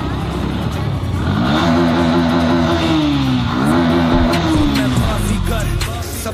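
A superbike engine revs loudly beneath a bridge, its pitch climbing and falling in two rising surges over a continuous close, echoing roar.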